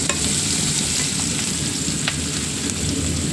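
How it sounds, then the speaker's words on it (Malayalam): Onions sizzle steadily in a hot pan, a constant crackling hiss with occasional sharper pops, close and fairly loud, no voices. "ഇതിലേക്ക് ഇട്ട് കൊടുത്തിട്ട് നമുക്ക് ഇതൊന്ന് നന്നായി റോസ്റ്റ് ചെയ്തെടുക്കാം"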